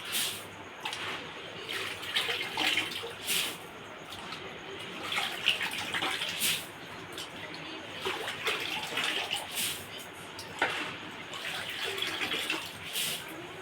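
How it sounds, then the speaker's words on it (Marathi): Chickpeas being washed in water in a vessel, heard as continuous close sloshing and swirling with repeated splashy bursts at an uneven rhythm and no speech. "नंतर हे पाण्याने धुवून घ्यायचे असतात"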